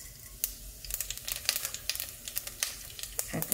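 Broken cinnamon stick with cloves, cardamom and fennel seeds sizzling in melted ghee for a mushroom pulao, a steady soft fry broken by frequent sharp crackles and pops close by, with no talking.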